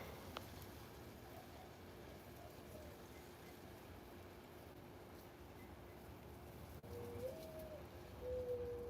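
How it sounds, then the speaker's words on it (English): Mourning doves coo softly in the distance, with other birds calling faintly over a steady low background hum, no talk. "you can hear the mourning doves"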